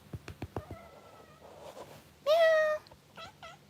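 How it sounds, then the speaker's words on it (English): A cat gives one loud, drawn-out meow, preceded by a few soft clicks and followed by a couple of faint chirping calls. "And here's a cat."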